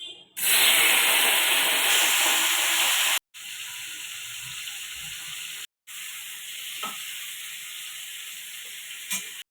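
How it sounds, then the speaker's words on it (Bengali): Prawns coated in turmeric and salt frying in a pan, a loud steady hiss that drops quieter after a few seconds and continues with a couple of brief breaks and faint clinks. "চিংড়ি মাছটা ফ্রাই করে নেব"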